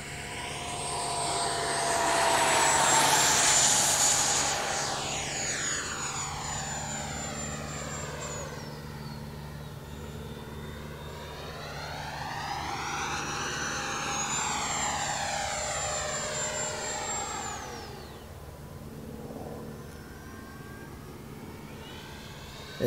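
An FMS 80mm electric ducted fan AV8R model jet flies past, its loud, steady fan whine rising and falling in pitch as it swoops overhead and away, then returns without any talk.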